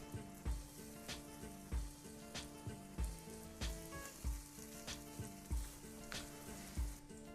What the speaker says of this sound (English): as the eggplant is frying